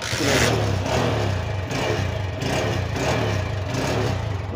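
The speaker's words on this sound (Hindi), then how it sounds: "किक मार के मैं स्टार्ट करके दिखाता हूँ कि बाइक हमारी स्टार्ट होती है" A TVS Star City Plus 110cc motorcycle engine runs after a kick start, with a steady mid-pitched rumble that swells in repeated revving pulses, close and fairly loud, with no talking.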